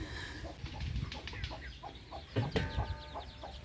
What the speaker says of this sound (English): The chickies are still around.